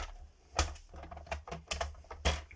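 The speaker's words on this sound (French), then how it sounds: "je vais reprendre quand même le massicot pour faire les plis" A paper trimmer scoring fold lines into card stock for a pop-up card, giving quiet close clicks and short scraping strokes in an irregular rhythm.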